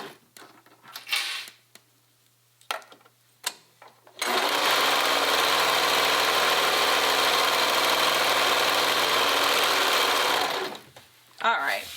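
A domestic sewing machine runs in one steady, loud burst of about seven seconds while a cardigan is stitched. Brief handling noises and bits of talk come before it, and it stops abruptly near the end.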